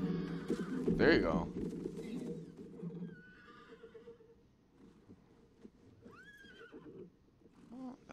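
A horse whinnies loudly near the start, with a few fainter whinnies and bird-like calls later, over steady background noise and some voices.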